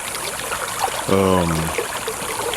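Water runs steadily through a flood irrigation ditch as a soft, continuous trickling flow, with a short tonal sound briefly rising above it midway.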